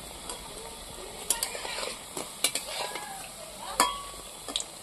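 Pointed gourd pieces fry in a pan as a utensil flips them one at a time, giving a soft sizzle under scattered sharp clinks and scrapes of metal against the pan.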